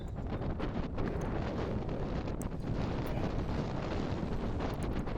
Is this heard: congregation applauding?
no